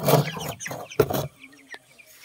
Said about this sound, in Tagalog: ang ating mga kakatayang manok, eto po sila